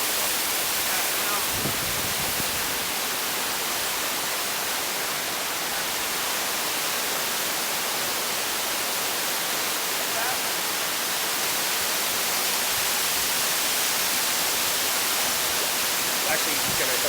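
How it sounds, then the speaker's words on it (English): Soco Falls, two waterfalls merging into one between two mountains, produces a loud, steady broadband roar of rushing water throughout, close and constant. "Two waterfalls that merge into one."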